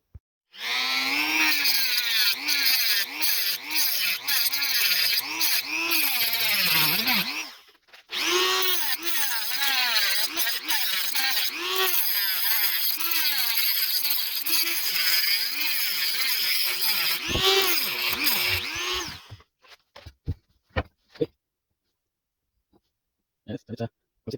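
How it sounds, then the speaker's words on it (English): A power grinder cutting out the A/C compressor clutch bearing on a Dodge Ram 1500, a loud continuous whine that drops briefly partway through, then ends in scattered clicks and taps. "I already start grinding them. So I need to grind 4 more to get this bearing out."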